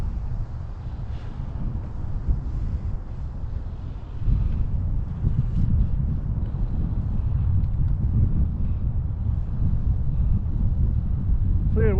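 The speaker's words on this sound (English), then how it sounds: "an easterly wind is hitting me" Easterly street wind buffeting a microphone downtown, a loud continuous low roar that gusts stronger after a few seconds and persists throughout.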